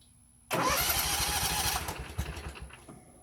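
A Spartan RZ-C 42-inch zero turn mower engine cranks and catches at once, settling into a loud, uneven running rumble before easing back; heard close up with no talk.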